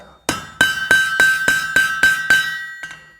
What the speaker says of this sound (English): So we'll just give it a little bit more forging, especially where the metal's thicker.